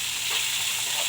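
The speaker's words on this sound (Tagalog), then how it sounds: "Ginisa na niya yung kanyang Giniling." Ground meat sautéing in a pan with onion and garlic, a steady close sizzle with light scraping of the stirring utensil, no talk.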